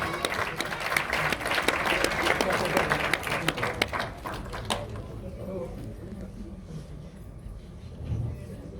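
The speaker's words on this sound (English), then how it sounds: "Please give him a big round of applause." Audience at a women's awards event breaking into loud, dense applause for the first few seconds, then dying away into a quieter hall murmur with a brief swell near the end.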